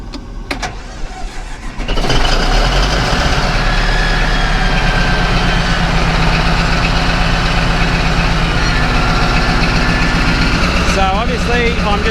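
A D11 bulldozer engine cranks and catches after a couple of quiet seconds, then settles into a loud, steady, rumbling idle close by, with a voice briefly at the end.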